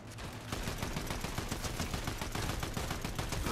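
Rapid automatic gunfire in Fortnite: a dense run of close, loud shots after a short pause, with no talking.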